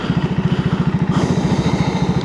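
A 2025 KTM 390 Enduro R single-cylinder engine fitted with a Coober decat idles close by, a loud, even, rapid pulsing thump with a slight rise in pitch partway through.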